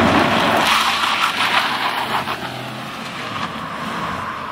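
Kia Stonic GT Line Plus compact crossover on the move, a steady engine and road rumble from inside or close by that swells then settles into an even drone, with no talk.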